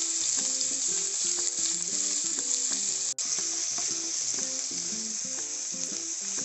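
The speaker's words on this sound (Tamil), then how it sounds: "சூடானதுக்கப்புறம் நம்ம இடித்து வச்சிருக்கிற இஞ்சி பூண்டு பேஸ்ட் ஆட் பண்ணுறோம்." Ginger garlic paste sizzles in hot oil, a loud, continuous hiss close by that runs throughout, with one sharp click midway and background music, without speech.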